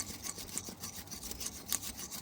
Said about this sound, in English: I'm just gonna use a wire brush.